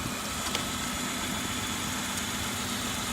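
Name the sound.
2003 Kia Sorento engine idling with cylinder 1 misfire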